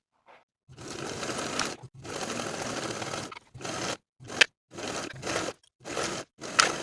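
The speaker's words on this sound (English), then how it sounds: "Then I'll sew this curved seam with a 5/8 inch seam allowance." A sewing machine stitches a curved crotch seam on elastic-waist women's pants at a 5/8 inch seam allowance. Close, steady mechanical whirring comes in several bursts of one to two seconds, separated by brief silent pauses.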